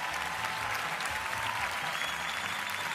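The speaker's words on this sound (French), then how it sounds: "On peut les applaudir encore une fois." Audience at a breakdance battle, a Bgirl quarter-final, applauding in a dense, steady wash of clapping that fills the whole moment without a break.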